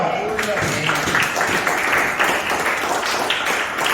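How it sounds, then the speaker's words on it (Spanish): Church congregation applauding in praise, a dense steady wash of many hands clapping throughout, with voices and cheers mixed in. "Denle un aplauso al Señor."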